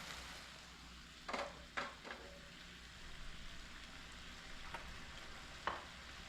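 Sauce cooking in a pan over raised heat, giving a steady close sizzle and frying hiss with a few soft stirring scrapes and clicks throughout, no talking.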